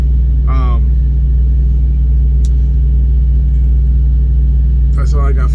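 A semi truck engine-braking down a steep hill in 8th gear gives off a loud, steady low rumble that runs unbroken through the whole stretch, with brief bits of talk near the start and end.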